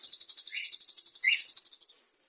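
Pet conure-type parrot chirping during hand-feeding, a rapid run of bright, closely spaced high chirps about two dozen in quick rhythm, close and fairly loud, with a couple of sharper squeaks near the end as it tapers off.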